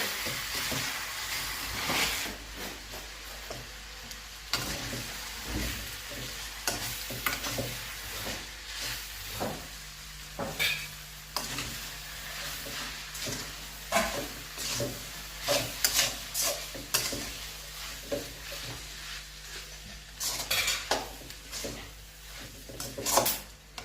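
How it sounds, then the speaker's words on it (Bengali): Noodles with a little oil and salt are stirred in a pan, soft sizzling under repeated scraping and tapping strokes of a utensil, close by, with no talking. "সুন্দর করে নেড়ে নেড়ে নিতে হবে।"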